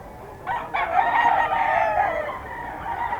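Rooster stags crowing at a bird market, two or three overlapping loud crows close by with no talk over them.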